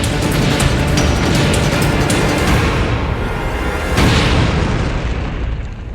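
Russian artillery shelling in Ukraine, heavy booming explosions and bursts rolling one after another, loud and dense, with a strong blast near the four-second mark and a fading tail.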